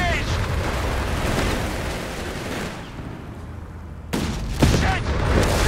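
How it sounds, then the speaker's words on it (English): Anti-tank fire in the Company of Heroes 3 battle at El Alamein, North Africa, sounds as a dense, loud rumble of gunfire and explosions, then a sharp blast followed by continued booming combat noise. "Anti-tank fire!"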